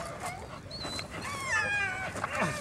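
A dog whimpering and whining in high, wavering tones, with some faint background voices and movement nearby.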